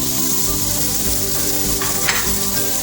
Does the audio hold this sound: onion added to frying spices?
yes